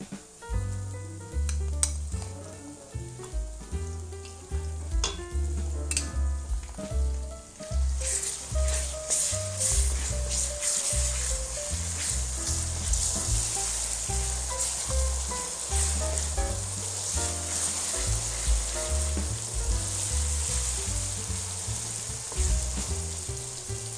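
Ginger garlic paste fries in a pan, its crackling sizzle growing denser and louder after the first few seconds, with a steady musical backing and occasional stirring.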